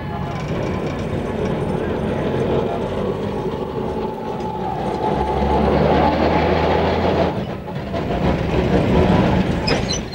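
Rail Scrubber 2, a tram towing a drinking water trailer, rolls in at Esplanade in Kolkata amid city noise, a steady low rumble of wheels on rail with a deeper hum swelling midway, busy street background throughout.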